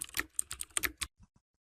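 Quick keystrokes on a laptop keyboard as a phone number is entered, about a dozen close, crisp clicks in a fast burst followed by a couple of softer, isolated taps, with no talking.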